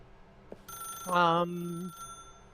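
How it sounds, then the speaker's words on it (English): A telephone on a lone round table rings once in The Stanley Parable, a bright trilling bell burst with strong harmonics, clear and close, preceded by a faint tone and a soft click. "it's a telephone ringing on a single round table underneath a swinging light"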